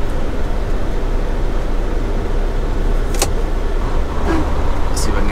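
A semi truck rolls along the road with a steady, loud engine and road rumble that continues throughout, with brief higher-pitched mechanical noises near the end.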